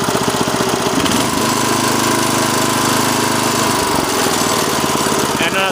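A Sears Craftsman rototiller engine runs at slow idle, a loud, steady, rough chugging throb that holds unbroken throughout, close by with no voices over it.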